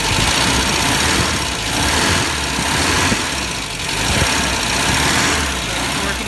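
A 1976 MGB Roadster engine runs after a gas filter change, a loud, close, steady idle with gentle rises and dips in intensity and no talking.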